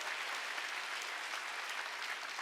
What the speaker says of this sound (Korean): 깨달은 사람만 박수 쳐요.